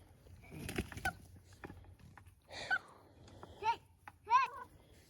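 Two roosters fight each other. A flurry of scuffling or flapping comes first, followed by three short, harsh squawks and clucks spaced a second or so apart, close by and fairly loud.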